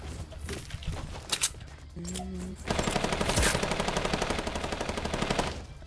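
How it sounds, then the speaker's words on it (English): Fortnite gunfire: a few scattered shots, then a rapid, steady automatic burst lasting about three seconds, fairly loud and close, with a brief tonal game sound before it. "Someone's shooting."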